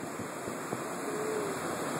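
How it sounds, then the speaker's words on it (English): Ocean waves breaking on Pismo Beach make a steady, broad wash of surf with wind noise over the microphone, continuous and moderately loud for the whole stretch, with no voices. "Look at these waves trying to get us."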